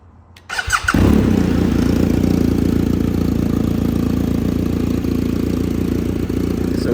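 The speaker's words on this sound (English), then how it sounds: "I'll start this and let you hear the exhaust, the new exhaust" A BMW 1250 adventure motorcycle fitted with a titanium Aero slip-on exhaust starts with a short cranking whirr, then catches and settles into a loud, steady, deep high idle right beside the bike.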